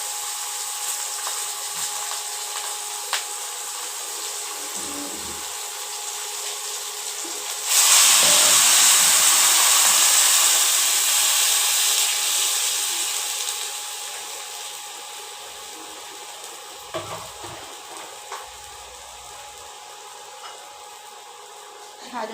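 Water is poured into a hot pan of sizzling chopped tomatoes and chillies for a Bengali bata fish curry. A sudden loud steamy hiss erupts, then slowly fades to a softer simmering crackle with a few light clinks.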